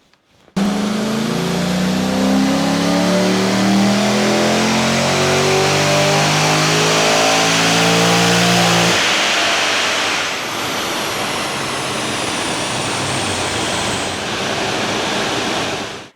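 LS3 V8 with CNC heads, a cam upgrade, Ramjet intake and stepped headers, pulled on a dyno: a loud, sustained roar climbing steadily in pitch to high rpm, then easing back down as it settles, no talking.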